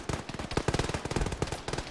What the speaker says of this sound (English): There's a lot of shooting in this direction.